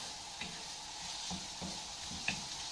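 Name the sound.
stirring grated onion frying in a pan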